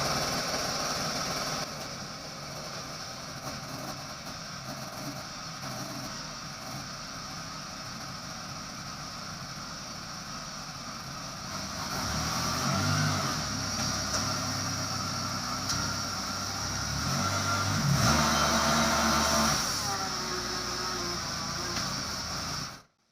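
A small engine running steadily after a carburetor adjustment, idling with a constant hum before it revs up and rises in pitch a few times, its high end sounding slightly rough and rich, then cutting off abruptly.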